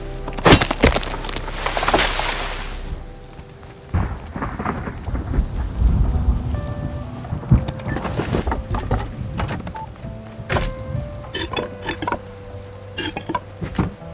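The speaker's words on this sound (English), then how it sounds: "Man, this rain is really not letting up." Rain and thunder in the survival game Rust, with heavy rumbling claps and loud crackles over a steady wash of rainfall that continues throughout, fairly close and dense.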